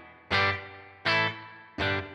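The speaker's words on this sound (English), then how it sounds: "I'm just going to engage a basic spring reverb up here" Electric guitar through an amp with a basic spring reverb switched on, three loud strummed chords struck in turn, each ringing out and decaying into a short reverb tail.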